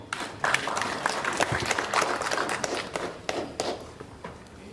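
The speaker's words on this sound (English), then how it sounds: "So let's encourage him to come with a clap." Audience clapping at a stakeholder event for vocational education and training, welcoming a presenter to the stage; a moderate, steady patter of many hands fills the room for several seconds without speech.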